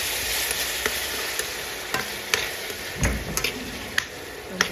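Potato and cauliflower fry in a pan with a constant low sizzle, and sharp ticks of a spoon striking the pan keep breaking in at irregular intervals.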